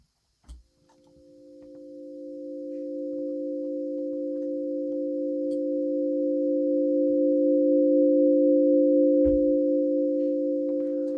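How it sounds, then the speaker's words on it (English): Sustained sine wave tone from an oscillator on an Absynth 6 software synthesizer, preceded by a short click, then a pure steady hum with a slow swelling attack, held alone for about ten seconds. "let's not use a sine wave"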